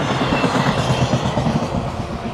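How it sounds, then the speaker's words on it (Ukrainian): An electric commuter train from Kolomyia rolls past close by, a loud rumbling roar with rhythmic clickety-clack from the wheels throughout. "Ось така от електричка."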